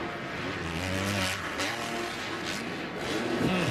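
Motocross bike engine revving during a race in Salt Lake City, a continuous mid-distance buzzing drone that surges and eases with the throttle over crowd noise and commentary.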